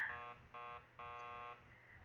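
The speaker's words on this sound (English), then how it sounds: "keep calm and ring the buzzer" A door buzzer in the video game Killer Frequency rings in three harsh electronic bursts, short, short, then longer, close and clear with no talk over it.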